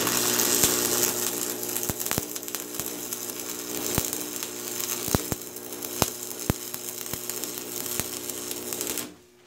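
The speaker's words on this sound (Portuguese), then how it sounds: "Aí, eu vou soldar aqui já pra terminar a peça." Arc welding on a steel wheel nut for an articulated tractor produces a steady close crackle and hiss with sharp pops throughout, stopping abruptly near the end.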